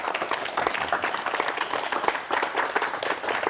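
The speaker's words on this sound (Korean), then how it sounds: "박수로 맞이해주시면 감사하겠습니다" A studio audience claps steadily for guests being introduced on a 1986 Korean KBS talk show, a moderate, even patter of many hands without any voice over it.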